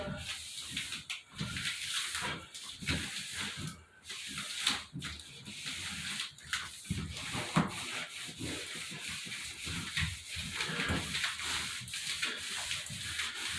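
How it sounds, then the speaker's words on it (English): A bathtub wall panel being rubbed down by hand, giving a continuous close-up rasping, sanding-like friction in repeated strokes with brief pauses, fairly loud and steady for the whole stretch. "And just rub it all down."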